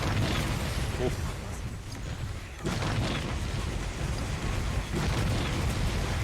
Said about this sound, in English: We'll try the Fireball.